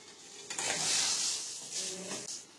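Mashed green brinjal for Kolhapuri bharit sautéed in a pan, giving a close, steady sizzle with scraping stirs that swell and fade in short passes, with no talking.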